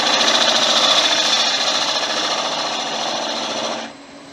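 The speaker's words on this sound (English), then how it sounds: "A smaller spindle gouge. In there a little bit more." Spindle gouge cutting into an end grain wood bowl on a lathe, a loud, continuous rough scraping and chattering hum close up that fades abruptly near the end.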